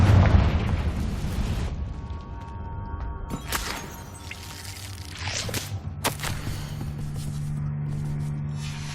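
Blasting spell explosions in Hogwarts Legacy, beginning with a heavy low boom that decays into rumble, followed by several sharp cracking bursts and a lingering low hum, with no talking.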